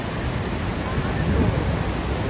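A large waterfall in California roars as a steady, dense broadband rush, loud and unbroken throughout.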